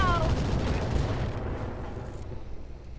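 Mech weapons fire in the Roguetech video game as a heavy rumbling barrage of blasts that starts loud and slowly fades, with a faint voice underneath.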